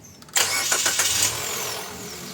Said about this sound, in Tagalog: tapos pa-start ko na itong makina